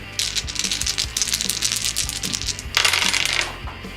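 Six dice rattle and clatter across a table during a Betrayal at Baldur's Gate board game, a continuous close scatter of hard clicks with a second loud burst of tumbling dice near the end.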